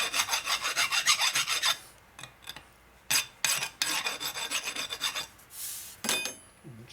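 Hand file rasping along the edges of a Harley shovelhead engine case, a run of quick scraping strokes, then a few separated bursts after pauses, close and crisp with no speech.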